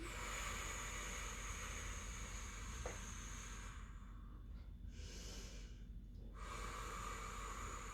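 Slow, audible breathing in and out during a Pilates leg-raise exercise for abs and glutes, a steady hissing airflow with a brief pause in the middle, close and alone with no talk.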